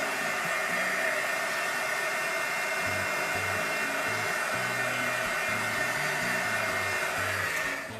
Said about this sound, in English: I'm going to use my heat tool.